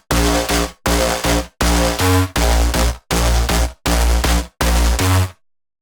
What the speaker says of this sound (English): So far the completed bass line sounds like this.